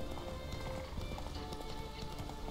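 Horse hooves clip-clop in The Witcher 3 video game, a steady rhythmic trotting under a busy game ambience, with no speech.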